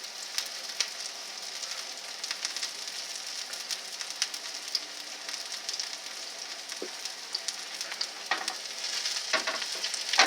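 German potato pancakes frying in a pan, a steady close sizzle with scattered crackles and pops over about ten seconds, no voices.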